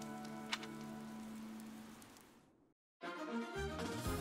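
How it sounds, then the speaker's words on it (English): Steady rain in Fire Emblem: Three Houses patters down in a continuous hiss, then cuts out briefly into silence before resuming with a low rumble. "The rain is really coming down now."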